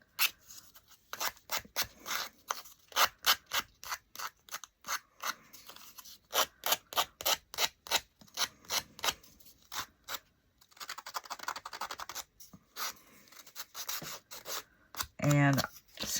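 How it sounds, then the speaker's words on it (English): Sandpaper rubs the edges of a small primitive wooden saltbox house in steady, rhythmic back-and-forth strokes. The strokes are close and fairly crisp, with brief pauses between bursts. "I'm just going to sand the edges of the little house just a little bit."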